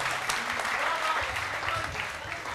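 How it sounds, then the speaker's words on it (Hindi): An audience at a university felicitation ceremony applauds for Vinod sir with steady, sustained clapping from a sizable crowd, loud and continuous throughout, and a faint voice underneath. "एक बार जोरदार तालियां हो जाए विनोद सर के लिए।"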